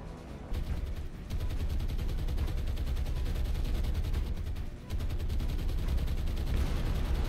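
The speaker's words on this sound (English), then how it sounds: "There's some shooting" Sustained gunfire rumbles through a naval battle in the War on the Sea video game, with dense rapid shots and booming low-end bursts that continue steadily, briefly dipping before resuming at full intensity.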